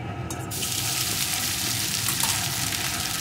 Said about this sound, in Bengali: এখন চিড়েটা ঘিয়ের সাথে সুন্দর করে ভেজে নেব।